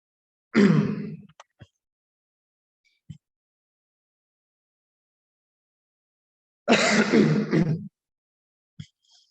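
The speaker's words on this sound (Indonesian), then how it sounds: "Maaf kalau saya masih batuk-batuk ya." Two short bursts of coughing, separated by a long silence, with a few faint clicks and small noises in between.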